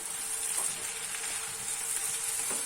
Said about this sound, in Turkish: Şöyle bir karıştırıyorum güzelce.